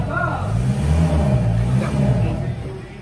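A Yamaha NVX scooter with a high-temperature exhaust revving nearby, a loud rising and falling engine drone lasting a few seconds.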